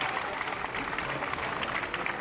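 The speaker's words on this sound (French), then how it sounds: "Applaudissements soutenus et plus enthousiastes pour saluer l'entrée en fonction d'Alain Juppé" Sustained, enthusiastic crowd applause in 1995 greeting Alain Juppé as he takes office as French prime minister at Matignon, heard as a brief, dense wash of clapping with a muffled, narrow-band broadcast quality.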